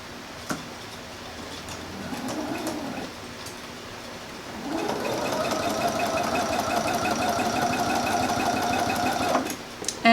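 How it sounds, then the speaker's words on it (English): A sewing machine stitches a quarter-inch seam on a quilt block, with a short burst of stitching early on, a pause, then a longer steady run of rapid, even needle clatter close by. "just sew with a 1/4 inch seam down the side"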